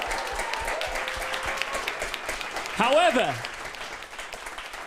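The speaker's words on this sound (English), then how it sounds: "they all deserve a big round of applause" Audience applause at the Sky Broadband Women's Esports Final: steady, dense clapping fills the clip, with a voice briefly speaking over it near the middle.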